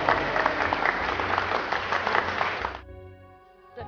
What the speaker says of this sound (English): Please, round of applause for David.